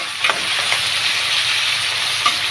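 Cut vegetables for sambar sizzle and fry in hot oil while being stirred, a steady close hiss with a few faint scraping stir sounds.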